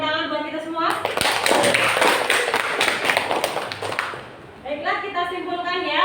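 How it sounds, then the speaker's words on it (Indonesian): A classroom group claps after a student presentation, a burst of mixed clapping lasting about three seconds in the middle, with people talking before and after it. "Tepuk tangan buat kita semua."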